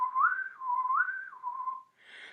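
A person whistles a clear, steady tune, the pitch rising and falling in smooth arcs before a brief breathy trailing sound at the end.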